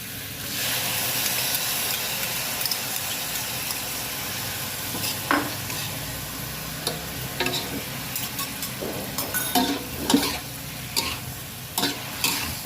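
Cabbage stir-fried with a mixed oyster sauce in a pan: a continuous sizzle with spatula scrapes and clatters growing busier and louder toward the end, no talking.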